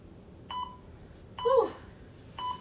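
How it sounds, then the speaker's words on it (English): An interval timer used during an abs workout gives three short electronic beeps about a second apart, the middle one slightly longer and louder, over a quiet background. "I will stop the interval timer"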